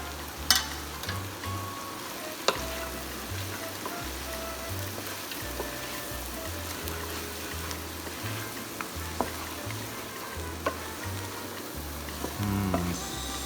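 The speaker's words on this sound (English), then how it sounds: "I'm going to saute this well, mix it well for about 2 minutes or so" Vegetables for butternut squash soup sauté in a pan, a steady sizzle running throughout with a spatula stirring and scraping in uneven strokes, close and fairly loud, with no talking.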